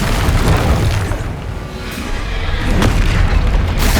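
Confringo fire blast spell explosion in the Hogwarts Legacy video game, a loud deep boom with rumbling blast noise filling the clip and a couple of sharper bursts.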